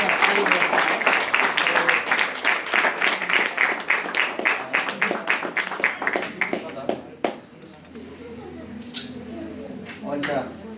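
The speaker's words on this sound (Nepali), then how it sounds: "ताली बजाइदिनेछौँ हामी अझै जोरदार ताली" Audience applause at a church Christmas celebration: a dense burst of clapping from a crowd that thins into scattered claps and then fades, with a voice coming back in near the end.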